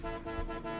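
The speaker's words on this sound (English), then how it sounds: "honk the horn, that helps" A car horn in the video game Mafia 3 sounds one sustained honk, steady for under a second, alone.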